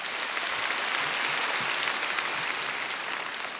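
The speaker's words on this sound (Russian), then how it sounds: "Под ваши аплодисменты, конечно." A comedy show audience in a hall breaks into steady, sustained applause, a broad even roar of many hands clapping at a distance, with no speech over it.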